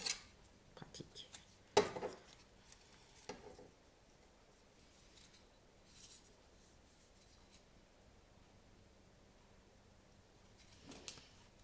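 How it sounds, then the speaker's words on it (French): Scissors snip along the edges of a small piece of paper while making a card gift box, giving a few close, quiet crisp cuts and light rustling in an otherwise hushed room. "Et on coupe les bords en diagonale à 2 cm"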